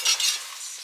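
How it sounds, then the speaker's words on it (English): Hot oil spits and sizzles in a pan while frying, a short, close burst of bright crackling hiss that eases slightly toward the end. "He didn't want to do this bit because the oil was spitting too much."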